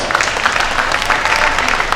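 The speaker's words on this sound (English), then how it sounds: "give this group a huge round of applause" Loud, close audience clapping at a heifer showmanship show, a dense continuous patter lasting about two seconds.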